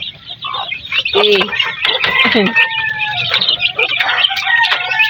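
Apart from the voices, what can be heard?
hens and chicks clucking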